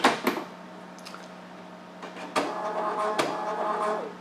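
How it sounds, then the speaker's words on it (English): NXT5000 card printer lid being shut by hand, giving a few sharp plastic clicks and clunks with a firm latching snap near the end, close up over a steady low mechanical hum. "We then need to close the printer."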